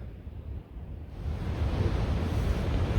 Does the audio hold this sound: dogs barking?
no